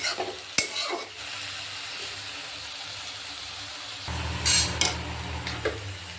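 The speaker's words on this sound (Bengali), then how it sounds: "সাথে আমি হলুদ দিয়ে দিলাম, দিয়ে আমি চিংড়ি মাছটাকে ভালো মতো ভাজি করে নেব" Prawns frying in a pan with salt and turmeric, a steady low sizzle under sharp scraping and clinks of a utensil stirring against the pan, with a louder burst of sizzling partway through.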